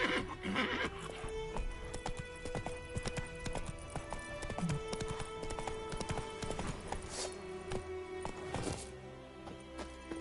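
A horse galloping in The Witcher 3: Wild Hunt, rapid clip-clop hoofbeats with whinnies and neighs, loud and close over game ambience, continuous throughout.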